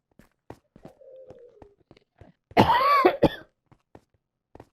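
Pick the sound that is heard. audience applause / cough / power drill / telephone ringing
cough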